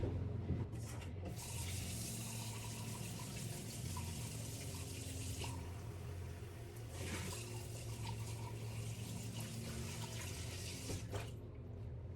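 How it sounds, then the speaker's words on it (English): Tap water runs steadily and strongly into a lab sink for several seconds, briefly tapering then surging again, with no talking over it. "now I will discard this down the sink with a copious amount of water"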